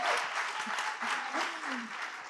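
Steady applause from a seated conference audience, dense and continuous at moderate distance, with faint voices mixed in.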